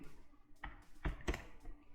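A few quiet computer keyboard taps, sparse and irregular, close by in an otherwise hushed room.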